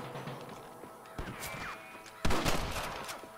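Gunfire in Red Dead Redemption while shooting at snipers: sharp rifle shots crack out over a busy background, a few separate reports with one loud blast near the end.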